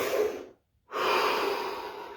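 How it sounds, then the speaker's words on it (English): A slow, deep breath, an audible inhale, a short pause, then a long breathy exhale, close and alone during a relaxation session. "Take a deep breath."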